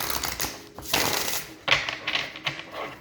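Tarot cards are shuffled by hand, a quick riffling, clattering patter in short bursts, close and fairly loud, with no voice over it.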